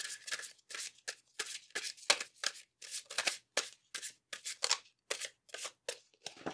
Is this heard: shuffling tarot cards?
yes